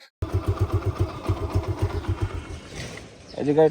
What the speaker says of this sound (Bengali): এখন আমি বাইকটা স্টার্ট দিচ্ছি তো স্টার্ট দেওয়ার পরে এইখানে একটা সাউন্ড হয়